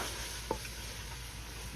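Buttery candy with vanilla and almonds is stirred in a pot: a steady, soft scraping churn runs throughout at low volume, with one small knock partway through.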